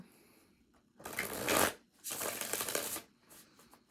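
A deck of tarot cards is shuffled close by in two quick riffling bursts separated by a short pause, with faint quiet handling before and after.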